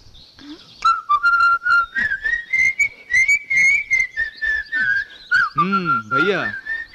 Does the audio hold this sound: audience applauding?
no